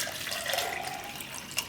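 Water is poured into a spiced yogurt mixture for Gujarati vaghareli rotli, a close, continuous trickling splash lasting under two seconds with no talk.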